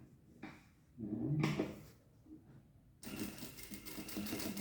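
A sewing machine stitches a bag, running in short bursts with pauses at first, then settling into a steadier continuous whirring run, close and moderately quiet.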